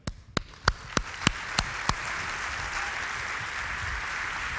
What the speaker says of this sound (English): you can stamp your feet, you can whistle, you can shout out loud, but please applaud Ms.